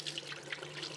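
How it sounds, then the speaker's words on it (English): Water runs steadily from a tap as something is rinsed under it, a close, even splashing rush. "Give it a good rinse."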